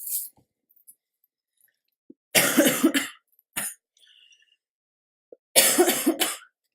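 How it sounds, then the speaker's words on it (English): Two harsh coughing fits, each a burst of a few rough coughs, separated by quiet pauses with a small clearing sound between. "you'll just have to deal with the coughing"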